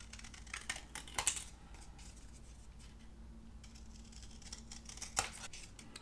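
Scissors cutting paper for a junk journal page, a few faint, close snips and crisp rustles at about one second and again near five seconds over quiet room hiss.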